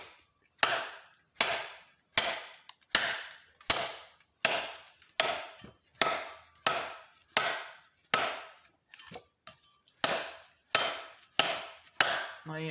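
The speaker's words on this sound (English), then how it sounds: "I'm hitting this pretty hard, and that weld is not giving it at all" A hammer strikes hard on spot-welded metal about sixteen times at a fairly even pace, each blow a sharp, close crack followed by a short decay.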